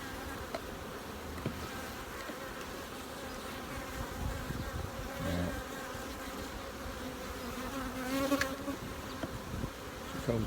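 Bees buzz busily inside honey supers set up for comb honey, a dense, close swarm hum that swells and dips, with a few brief knocks and clicks from handling the hive boxes and no talking.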